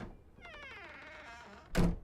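A door swings open in the game Draugen, its creaking hinge whining for about a second before a solid wooden thunk lands as it settles, heard close and alone in a quiet space.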